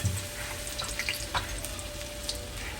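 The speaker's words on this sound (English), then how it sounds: "so we're gonna fry this for like 4 minutes each" Green plantains fry in a pot, with a soft steady sizzle and scattered small crackles and pops, fairly quiet and without talk.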